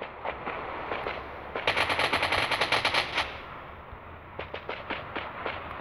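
Automatic gunfire in the mobile battle royale game Rules of Survival, with scattered single shots, then a loud rapid burst in the middle, and more sparse shots trailing off.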